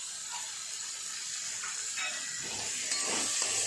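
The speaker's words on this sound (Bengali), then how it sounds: "কপি আলুগুলো মশলার সাথে খুব ভালোভাবে কষিয়ে নিয়েছি।" Cauliflower and potato pieces frying with spices in a pan, a steady close hiss and sizzle that swells slightly toward the end.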